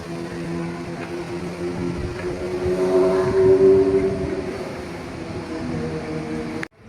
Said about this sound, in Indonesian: Ada momen yang selalu ditunggu-tunggu penumpang ketika kereta datang dari kejauhan. Suara roda yang semakin dekat, laju yang perlahan melambat